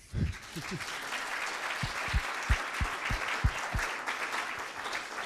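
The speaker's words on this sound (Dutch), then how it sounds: "Applaus." An audience applauds panel members at a Dutch policy report presentation. A burst of scattered clapping builds into a sustained wash, with a few sharper individual claps standing out at moderate distance.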